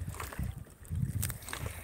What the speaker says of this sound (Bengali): এটা একটা খুব সুন্দর বোট রাইড